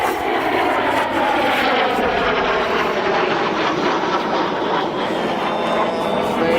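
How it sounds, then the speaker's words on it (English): T-38 jet aircraft pass high overhead during arrivals at the Oshkosh 2025 airshow, a loud, continuous broadband jet roar that slowly shifts in pitch and fills the whole stretch without talk. "Here's the T-38s. Overhead high."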